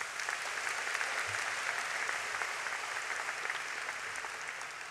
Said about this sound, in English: Another round of applause for John, please.